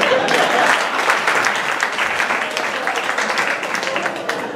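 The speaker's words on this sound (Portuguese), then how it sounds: "Uma salva de palmas pro Latão." A stand-up comedy crowd breaks into sustained applause, a thick wash of clapping that holds loud and even throughout, with a voice faintly audible beneath it.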